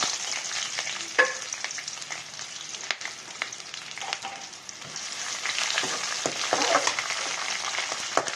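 Chopped onions, two bulbs' worth, sizzle and crackle steadily in a pan over low flame for poha, with scattered stirring clinks and pops, fairly soft and close, and no talking.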